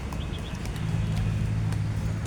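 Horse hooves clip-clop at a tourist riding pen inside a prison compound, where staff lead children around on horseback; steady low thudding steps sound close and continuous against background murmur.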